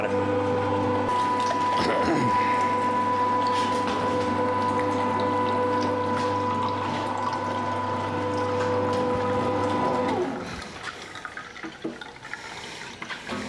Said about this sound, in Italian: vado a macinare. Maciniamo con la piastra dell'otto e poi andiamo a salare.